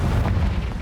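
A Confringo blasting spell goes off in Hogwarts Legacy, a short, loud, low boom that fills the moment with a dense rumbling burst and nothing else.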